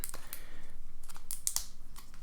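Plastic wrap being peeled and crinkled off the packaging of an AirPods 2 charging case, a run of close, quiet crackles and sharp ripping bursts with no talking.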